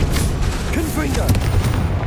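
A Confringo fire spell detonates in Hogwarts Legacy, giving heavy booming blasts mixed with a shouting voice and chaotic combat noise, loud and close.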